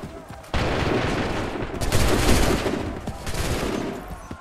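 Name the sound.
gunfire volley in the video game Assassin's Creed 3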